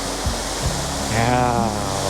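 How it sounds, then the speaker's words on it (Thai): A small hot spring waterfall at Khlong Thom, Krabi, gives a steady broadband rush of falling water, close and constant, with a couple of faint low knocks near the start. "นี่ก็เป็นบรรยากาศ น้ำตกของค่อม"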